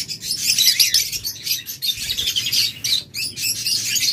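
Several small yellow pet birds, a local breed of budgerigars or lovebirds, chirp and tweet in a dense, continuous chorus close by, with rapid overlapping calls and occasional wing flutters and no talk.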